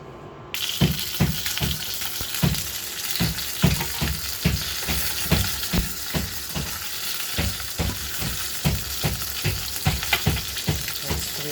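Sous-vide chicken thighs sear skin down in a hot pan. The crackling sizzle is loud and close, and it pulses in a quick, repeated rhythm.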